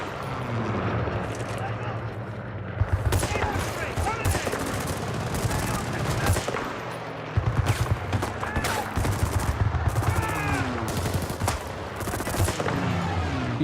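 Gunfire in Battlefield 6 multiplayer: dense, continuous shooting with rapid bursts and scattered explosive booms over a loud battle din, with a voice talking over it.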